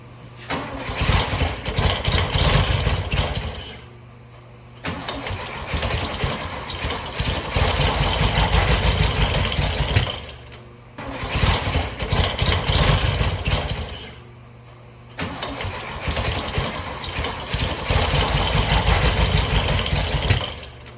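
A 1972 Volkswagen engine cranks and fires up, running loudly for several seconds before cutting out, then restarting in repeated cycles of steady running separated by brief quiet gaps.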